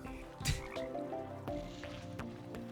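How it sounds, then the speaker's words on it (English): Frog in the Terraria video game, a few short wet croaks over faint game background noise. "This frog is upsetting me."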